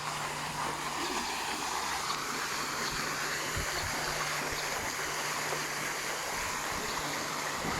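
Water pouring steadily into a resort infinity pool being refilled, a continuous broadband rushing and splashing like a stream that holds even and moderately loud throughout, with no talk over it.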